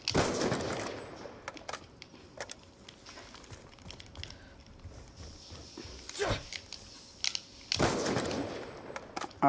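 KSG shotgun blasts from a video game: a few loud, widely spaced shots near the start and around the later seconds, separated by quieter clicks and movement sounds, with no one talking.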